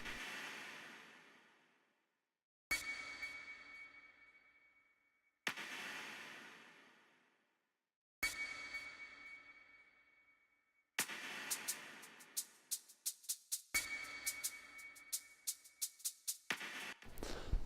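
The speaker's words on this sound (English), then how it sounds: "So that's just using triplets on the shakers there, and then just kind of keeping it on kind of dominant beat with the main percussive elements." Shaker percussion loop in triplets for a chill boom bap beat, heard first as repeated single shaken hits with decaying tails, then as a busier run of quick rhythmic shakes, fairly quiet with no voices.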